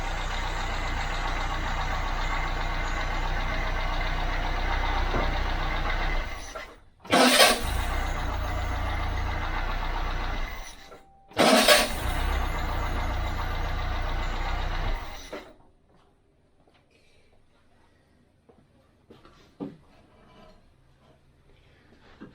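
A car engine with an original Lucas starter runs loud and close, cuts out twice for a moment and roars straight back with fast restarts, then goes quiet apart from faint background noise.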